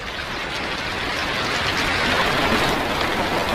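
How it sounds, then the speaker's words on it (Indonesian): Heavy rain pours steadily at night in a horror film scene, a dense, continuous hiss that swells slightly and stays loud throughout, with no voices. "Hujan turun membuat suasana di tempat itu semakin seram."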